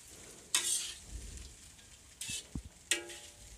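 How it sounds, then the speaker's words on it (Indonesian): Fried noodles (mie goreng) being stirred in a pan with celery leaves and spring onion, soft steady sizzling with a few louder scraping strokes of the spatula, close up and without talk. "ini dia daun seledri sama daun bawangnya aduk kembali hingga rata dan tercampur semua"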